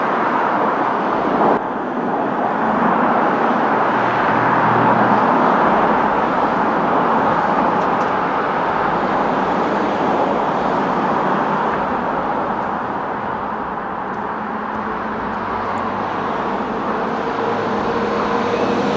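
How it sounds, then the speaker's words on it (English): Continuous roar of busy highway road traffic, loud and steady throughout with vehicles blending into a dense broadband rumble and no distinct voices. "I just couldn't really hear you with the road noise"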